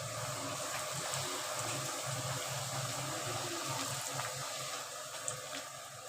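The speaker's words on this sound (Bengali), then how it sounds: "এইভাবে ভাটুরেগুলো ভেজে নেব। ভাটুরেগুলো ফ্রাই করে নেব।" Bhaturas deep-frying in hot oil make a steady, dense sizzling hiss that holds evenly throughout, close and unbroken, with no voices.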